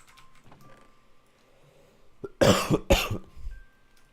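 Two harsh, close coughs in quick succession, over a quiet background.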